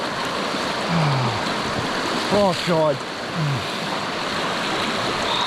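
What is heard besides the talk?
rushing river water at a river crossing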